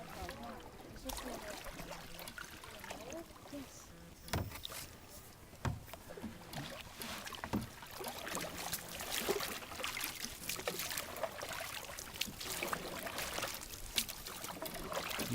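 A canoe is paddled across water, with quiet dips, trickles and splashes from the paddles repeating over a long stretch, while voices talk at times.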